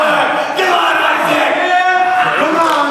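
A wrestling crowd cheers and chants for Mullet Man at a match, a loud, sustained wall of voices with rising yells throughout.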